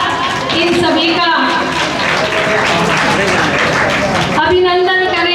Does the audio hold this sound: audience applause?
yes